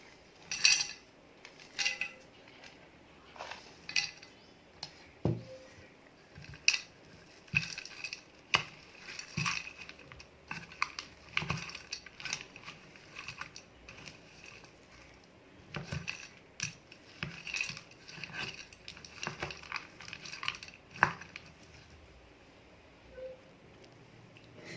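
Chopped nuts stirred into ground dates in a bowl for homemade chocolate truffles, giving repeated clinking, scraping taps of a spoon against the bowl in irregular bursts, close and fairly quiet, with no talking.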